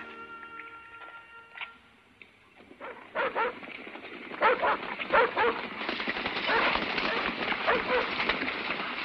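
Several dogs bark repeatedly at a distance in a western film scene, with sharp irregular yelps over a rain-like background hiss, following a stretch of music.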